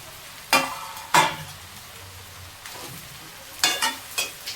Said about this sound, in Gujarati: હવે આપણે મુઠિયા નાખી દીધા છે અંદર અને હલાવી દઈશું